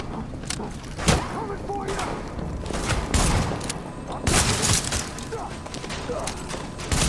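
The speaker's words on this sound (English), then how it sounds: "You'll see a guy rushing me with a shield, and I blow apart his shield with my shotgun." Shotgun blasts and gunfire in The Division, a Tom Clancy shooter, as an enemy's shield is blown apart: several sharp booming shots and thuds spread across the passage, mixed with other game effects.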